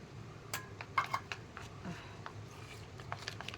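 Curd being mixed into a tamarind face pack in a small bowl, with a few light clinks and soft scraping taps of a spoon against the bowl, close and fairly quiet.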